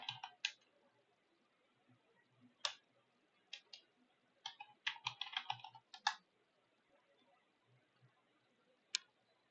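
Typing a command on a computer keyboard to install WSL in Windows: scattered close key clicks, single taps and a quick burst of several keystrokes, in a quiet room with no talking.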